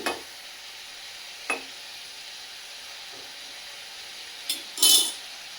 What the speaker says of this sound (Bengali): দেখো এটা একটু নাড়াচাড়া করে নিলাম।